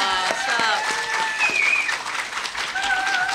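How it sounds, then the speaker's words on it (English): Audience at a fan panel applauding steadily, a continuous wash of clapping with whoops and raised voices mixed in, sustained and fairly loud throughout. "So can we please applaud our asses off for this lovely stop."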